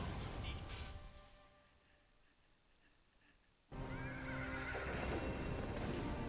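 A horse spirit in the video game Wo Long: Fallen Dynasty lets out a short neigh near the start, over game sound and hoofbeats, then fades before loud game audio resumes.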